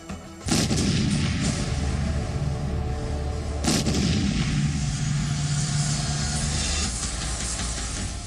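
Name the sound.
artillery and rocket launcher fire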